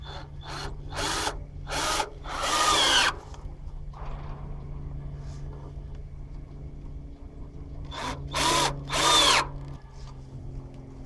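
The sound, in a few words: power drill drilling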